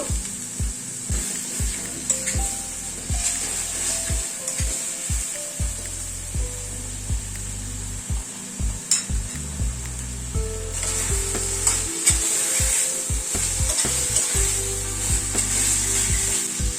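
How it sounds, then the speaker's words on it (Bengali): Mustard and poppy seed paste fries in a pan over a medium flame while being stirred, a steady sizzle with frequent rhythmic spatula scrapes and knocks, close and moderately loud, no speech. "গ্যাসের ফ্লেমটাকে মিডিয়ামে রেখে সরষে পোস্তটাকে একটু নাড়াচাড়া করে নিচ্ছি।"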